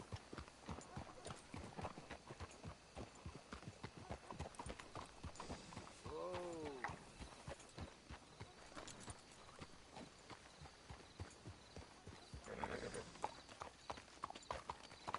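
Hooves of several horses in Red Dead Redemption 2 clip-clop steadily for a long stretch, one neigh rising in the middle, while people talk over the plodding.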